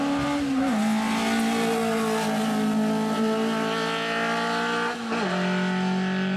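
A Soviet-era rally car engine holds a high, steady rev with a brief dip and drop in pitch near the end, loud and close, no voices.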